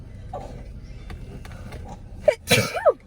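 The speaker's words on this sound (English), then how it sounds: "I need to sneeze." A single close sneeze bursts out near the end, preceded by a quiet breathy buildup.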